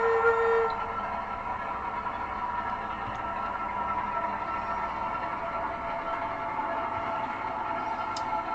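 A small N gauge class 08 model locomotive runs steadily on a layout, giving a continuous motor whine and track rumble at an even, moderate level, with a brief higher tone at the start and no talking.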